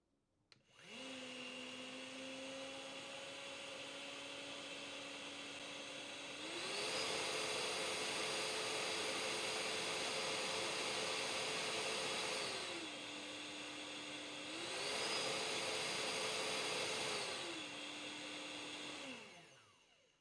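A Philips Aqua Trio 9000 upright vacuum cleaner whirs steadily, its motor pitch stepping up to a louder, harsher turbo setting twice before dropping back, close and continuous.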